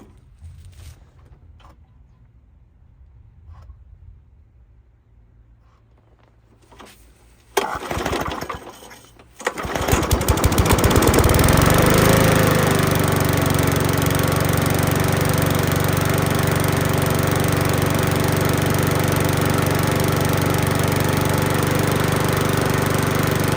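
A Masport or Honda lawn mower engine is started after a few quiet knocks and brief bursts, then settles into a loud, steady, continuous run close by as it warms up.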